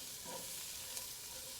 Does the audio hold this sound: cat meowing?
no